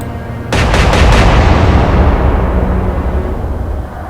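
Battleship main guns fire in a rapid salvo in the naval game Atlantic Fleet, a loud booming burst of several quick reports followed by a long rumbling roll that slowly fades.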